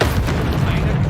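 Confringo fire-blasting spell exploding in the Hogwarts Legacy game, a single short, heavy boom with a rumbling burst, loud and close, with a voice calling out over it.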